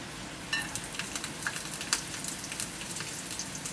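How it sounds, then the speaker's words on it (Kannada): Garlic and chilli frying in hot oil for spicy thecha noodles, giving a steady close sizzle with scattered small pops and crackles throughout. "ನಾನೀಗ ಆಯಿಲ್ ಹಾಕಿದ್ದೀನಿ. ನೆಕ್ಸ್ಟು ಗಾರ್ಲಿಕ್ ಮತ್ತು ಚಿಲ್ಲಿ ಹಾಕ್ತಿದ್ದೀನಿ"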